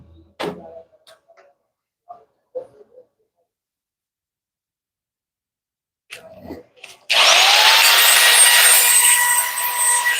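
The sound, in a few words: power tool polishing Mitsubishi Canter driveshaft tube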